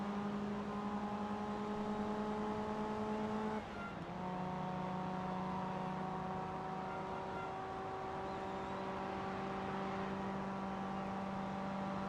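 A Nissan S13 with the SR20 engine in Forza Motorsport 2 holds a steady, droning engine note, shifting briefly partway through before settling into a sustained hum at moderate volume, with no talk.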